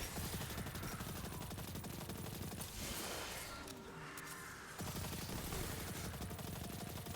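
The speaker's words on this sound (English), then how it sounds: "we're just going to shoot this with our arc gun" Rapid arc gun fire in Destiny 2, a dense continuous burst of loud shots that drops away briefly in the middle and then resumes just as loud.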